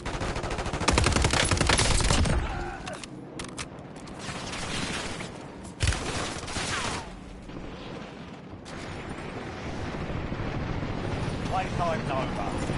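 Gunfire in the Call of Duty video game, loud rapid bursts of automatic fire and heavy blasts up close with mechanical clatter, mixed with game voice callouts and dense combat noise.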